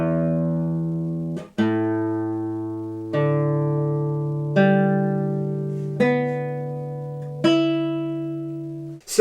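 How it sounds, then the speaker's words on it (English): Open strings on a cheap $200 acoustic guitar are plucked one at a time, six clear ringing notes spaced about a second and a half apart, each sustaining and decaying, close and alone. "So the open strings do sound nice and clear."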